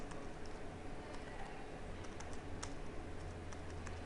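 Quick, steady keystrokes clatter on a computer keyboard while code is typed, faint and close, with an even rhythm and no talking over it.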